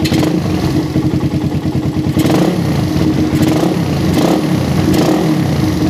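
Motorcycle engine with a PE PWK carburetor blipped from idle, rising in several quick revving bursts over a steady running drone, close and loud, with no talking.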